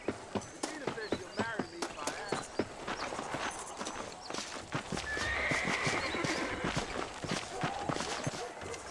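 A horse in the Red Dead Redemption video game neighs and whinnies while its hooves clip-clop in a steady rhythm, close and fairly loud, with a burst of denser hoofbeats partway through.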